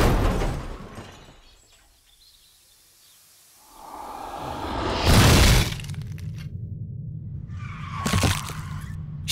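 Car crashes into a Saab estate: rumbling engine noise fades out, then a sharp smash and bright scatter of shattering glass, followed by a second crunching burst with rattling debris, loud and close.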